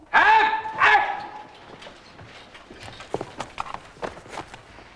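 A man imitates a rabid dog, letting out two loud howling yelps up close, then trailing into scattered snapping and scuffling sounds.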